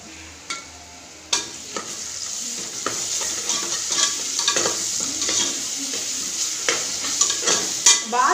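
Ground chicken fries with ginger paste in a pan for a village-style chicken biryani. A steady sizzle runs under repeated clinks and scrapes of stirring, close and fairly loud.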